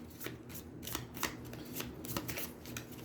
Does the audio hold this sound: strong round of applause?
no